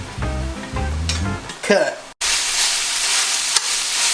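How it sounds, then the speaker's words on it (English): Meat for street tacos, seasoned with salt, pepper, garlic powder and lemon juice, fries in a pan with a steady hiss and crackle after a few stirring clatters, and a voice speaks briefly. "It's already starting to sizzle."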